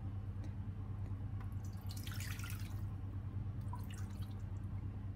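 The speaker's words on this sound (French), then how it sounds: "je viens déposer dans le plat à four l'équivalent à peu près d'un verre d'eau" Water poured into an oven dish holding a leg of lamb with bay leaves, a faint splashing trickle over a steady low hum, close by and quiet.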